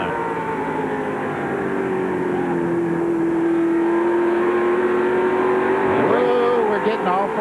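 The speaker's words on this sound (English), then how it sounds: "look at these cars go down the straightaway here" Stock race cars of a 1995 NASCAR Slim Jim All-Pro Series race roar down the front straightaway at Nashville Speedway, a loud steady engine drone with a rising whine near the end as cars pass, under a commentator's talk.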